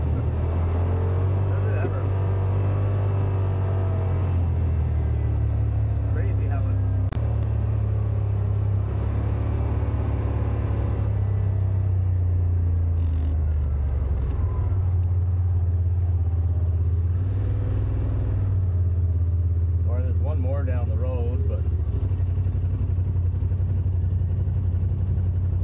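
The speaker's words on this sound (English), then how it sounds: "I'll throw it into sport mode, which means as soon as you touch the throttle, it's instant response" Yamaha RMAX1000 side-by-side driving in sport mode, its engine a steady low rumbling drone with rising and falling pitch as speed changes, someone talking over it through much of the drive.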